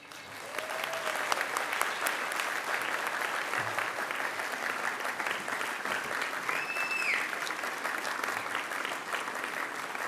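A graduation ceremony audience gives sustained applause, steady crowd clapping that carries on evenly for about ten seconds without talk over it.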